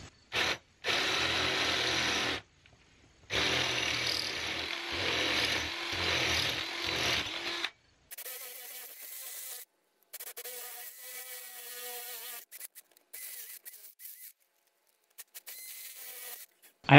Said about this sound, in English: Now I'm going to step up to this big one here and get all of these drilled out.